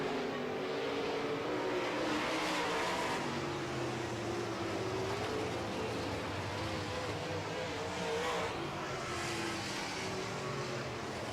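Modified race cars circling a track during heat races, a continuous layered engine roar with overlapping revving tones rising and falling as the field runs together, heard at a distance.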